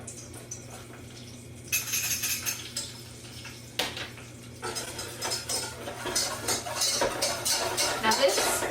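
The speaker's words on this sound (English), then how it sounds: "We're going to whisk in our cocoa powder." A whisk stirs cocoa powder into a pot on the stove, giving soft scraping and light metallic clinks against the pan in quick bursts, with a steady low hum underneath.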